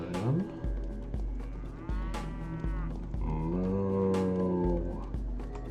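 Cattle in the Pathologic video game moo loudly and at length, several deep, drawn-out lows that rise and fall, with short thuds between them and no talk.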